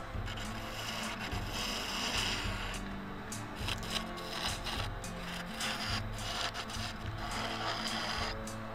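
A skew chisel cuts a laminated Australian hardwood mallet spinning on a wood lathe, giving a continuous scraping, rubbing hiss over the low hum of the lathe motor.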